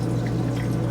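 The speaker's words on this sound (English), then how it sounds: "so all we do is take a little bit, pour it into the sink" RV antifreeze poured into the sink of an Airstream travel trailer, a steady, close liquid rush over a low constant hum, lasting under a second with no talking.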